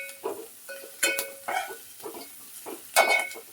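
Onion, green chilli, mustard seeds and cumin temper in hot oil, with a string of short, rhythmic sizzling bursts and utensil scrapes, close and fairly loud.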